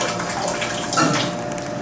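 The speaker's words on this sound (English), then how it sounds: "Press the switch on the left side panel and you can get hot water from the faucet." Hot water runs from the faucet of a FRESER TB-35T tea brewer, a steady close stream with a brief swell near the middle.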